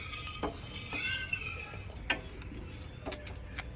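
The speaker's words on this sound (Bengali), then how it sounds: "এবার চাটুটা বসিয়ে নিয়ে পরিমাণ মতো তেল দিয়ে নিতে হবে।" A tawa griddle set down on a stove with oil added, a few light metallic clinks and taps over low kitchen background noise, close and fairly soft.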